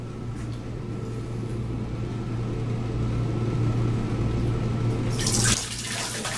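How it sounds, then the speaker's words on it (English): Water poured steadily onto a tilted glass pane to make it sheet, a continuous close splashing rush over a low hum, cutting off sharply near the end. "I'm gonna pour the water on it so that the water would sheet."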